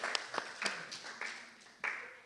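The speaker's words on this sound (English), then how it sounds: "give a nice round of applause to our AV team, Mark and Cole, working hard back there" An audience in a church service claps for the audio-visual crew, a brief patter of scattered claps and a few sharper hand slaps fading and restarting across the room, fairly quiet and without much rhythm.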